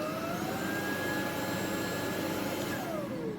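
An Ultenic vacuum cleaner runs steadily with a loud, constant whirring motor and airflow roar, holding one tone throughout with a faint shifting whine and no voices.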